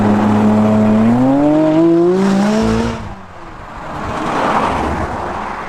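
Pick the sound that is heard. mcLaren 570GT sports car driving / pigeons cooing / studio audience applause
mcLaren 570GT sports car driving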